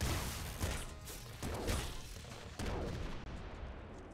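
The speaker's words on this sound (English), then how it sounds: "Right, let's try the explosive teleportation." Explosive teleportation ability in the Nuclear Throne Ultra Mod video game, heard as a run of sharp, punchy blasts and crashes over a busy, continuous game-sound bed, with no talking.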